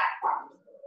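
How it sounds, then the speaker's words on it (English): A dog gives one or two short, nearby barks with a faint whimpering tail, alone and with no talking. "Let me let these dogs out."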